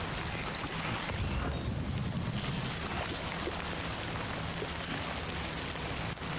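Rain in the video game Death Stranding 2 falls steadily and densely, a continuous hiss of drops on surfaces with no voices over it.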